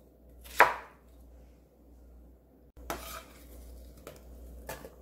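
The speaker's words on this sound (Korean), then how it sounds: "배 썰어주세요." A knife slices through a pear on a cutting board, with a sharp first cut followed by a quiet stretch and then several lighter knife strikes and board taps close by.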